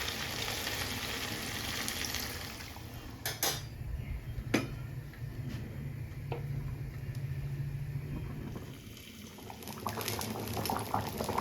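Chicken and potato curry simmers after hot water is added, a steady close bubbling and hiss with a few sharp clinks of a utensil against the pan.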